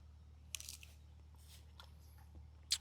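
Panchara nelli fruit bitten and chewed close by, a few short crunchy bites and squishes over near silence, with one sharper crunch at the end.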